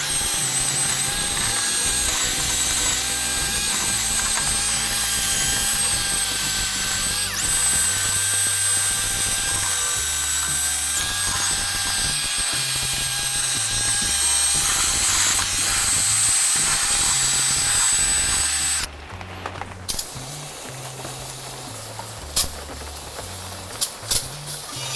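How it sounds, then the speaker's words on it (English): A power-driven wire wheel whines loudly and continuously against a rusty rear brake hub on a 2005 GMC Yukon, then cuts off near the end, leaving scattered clanks and handling noises. "we're going to hit this hub with the wire wheel and give it some a fresh clean"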